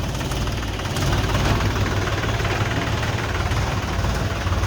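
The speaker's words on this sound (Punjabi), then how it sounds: "ਟਰੈਕਟਰ ਚਲਾ ਰਿਹਾ ਹੈ" A tractor engine runs steadily nearby while plants are being watered, a continuous low rumble with a throbbing idle, no voices.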